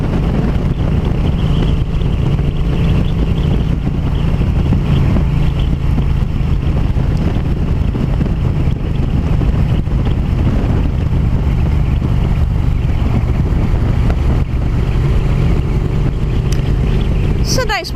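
Heavy wind roars against the microphone while riding a motorcycle along twisty fall roads, a loud, constant buffeting blast with engine drone underneath that lasts throughout.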